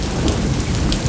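Torrential rain in the Amazon rainforest, a dense, loud, unbroken roar of downpour with a deep rumbling undertone, filling the whole moment with no voices.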